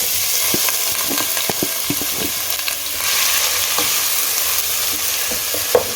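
Two chopped medium onions fry in a few spoons of hot oil in a pan, giving a loud, constant sizzle with scattered light clicks and scrapes from stirring.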